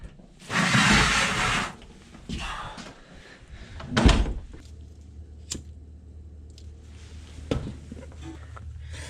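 A door shuts with a solid thud on an ice fishing shack heated by an oil stove, preceded by a burst of rustling and scraping, then followed by quieter shuffling and a few light knocks.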